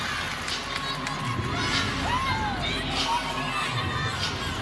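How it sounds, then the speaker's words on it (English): Crowd noise fills a gymnastics arena during a college beam routine: a steady hum of many voices with scattered shouts and children's calls, loud and continuous throughout. "Well, the crowd is buzzing."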